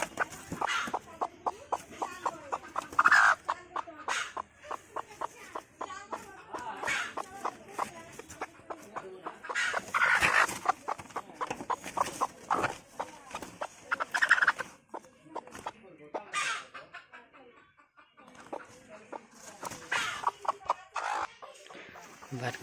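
A domestic hen clucks in repeated bursts close to the microphone at a home yard, with short pauses between calls and no talking.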